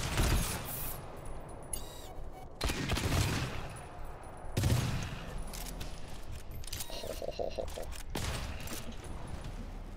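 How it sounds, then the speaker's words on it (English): Three-burst cannon in the GTFO co-op shooter firing in quick clustered volleys of sharp bangs amid game noise, with players chatting over it. "Dude, Justin would really like this 3 burst cannon, I think."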